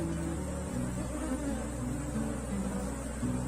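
Honeybees at an opened hive during a swarm division make a dense, steady buzz that stays loud and continuous throughout, with no speech heard.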